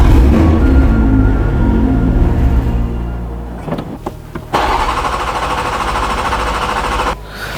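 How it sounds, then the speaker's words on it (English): A BMW M240i engine runs steadily with a loud, continuous drone, then falters and cuts out briefly before catching again, stuttering near the end as it starves of fuel. "start the vehicle and let it run out of fuel"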